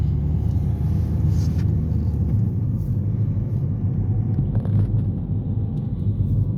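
A car on a driving-test route by a pond accelerates after finishing a turn, a steady low engine rumble and road noise from inside the cabin, continuous and moderately loud.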